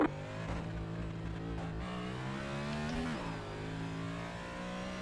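A Next Gen stock car engine lapping Atlanta in the iRacing simulator, a sustained loud droning roar holding steady with slight pitch rises and dips as the car powers through the lap.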